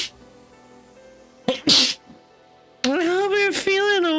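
A single sharp sneeze bursts out near the mic from a quiet background, followed shortly by a voice talking.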